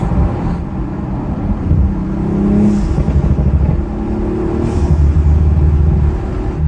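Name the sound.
turbocharged car engine, turbo spool and blow-off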